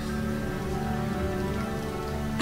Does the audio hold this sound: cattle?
no